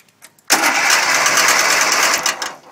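A tractor engine running after a cold start bursts in after a half-second of quiet, then runs loud and steady with a rough, chugging mechanical roar close by before easing slightly at the end.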